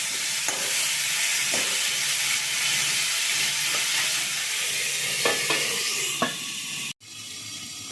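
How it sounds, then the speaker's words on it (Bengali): Eggplant fries in a little oil over a low flame, giving a steady soft sizzle with occasional scrapes and taps of a spatula. Near the end it cuts briefly, then resumes. "তারপরে এটাকে আমি ঢাকা দিয়ে লো ফ্লেমে ভেজে নেবো"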